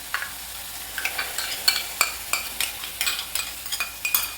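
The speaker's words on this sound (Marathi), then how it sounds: "हा सगळा मसाला आपल्याला तेल सुटेपर्यंत परतून घ्यायचं आहे" A masala paste of ground coriander-cumin, curd, kasuri methi and cashew paste sautéing in oil for dhaba-style shahi paneer, with steady sizzling and repeated scraping stirs of a spatula at close range, no voices.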